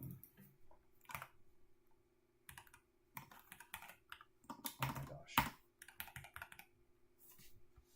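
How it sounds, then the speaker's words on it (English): Fast, irregular keystrokes on a computer keyboard come in close, clicky bursts with short pauses, and a person briefly mutters between them. "swear my typing is getting worse lately"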